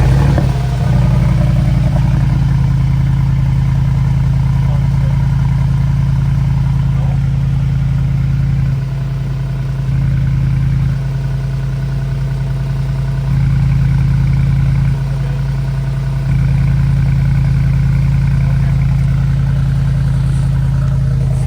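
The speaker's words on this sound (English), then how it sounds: "We're gonna be giving the G63 its first startup with the FI exhaust." A Mercedes G63 in Sport Plus mode with an FI axle-back exhaust, loud and close, holding a deep steady rumble throughout, with a few brief dips and swells in the low drone.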